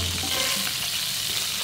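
Butter sizzles and crackles brightly in a very large hot frying pan, steady and close, with faint clinks underneath.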